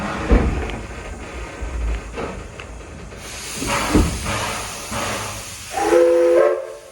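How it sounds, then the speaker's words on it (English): A steam locomotive whistle at Greenfield Village sounds near the end as a loud sustained blast, after several seconds of hissing steam and mechanical clanks. "Blast on the whistle there."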